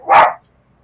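A dog gives a single loud, close bark, followed by a brief pause and the onset of another sound at the very end.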